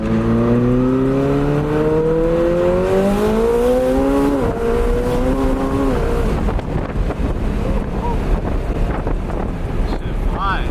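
A 1000hp McLaren 720S pulls hard at full throttle, its engine note climbing steadily in pitch through the gear, then breaking into a rushing roar buried in heavy wind buffeting, loud and close throughout.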